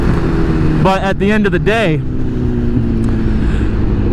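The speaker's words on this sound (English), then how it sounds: "that wasn't a very smooth downshift, but still getting used to the bike" A liter-class sport motorcycle engine drops through a downshift, its steady drone sweeping in pitch under a voice, loud and close throughout.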